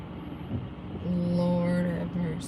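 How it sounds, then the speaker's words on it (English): A semi truck's engine runs steadily nearby, a low droning hum with a faint tonal whine that swells slightly midway and holds through the whole stretch. "I can hear his truck running, so I don't know if he broke down or what he's doing."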